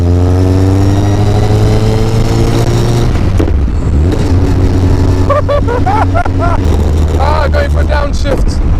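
A Caterham 620R sports car engine pulls hard through the gears, its loud rising drone climbing in pitch, dropping at a shift, then revving up again with sharp whining sweeps, close and dominant throughout.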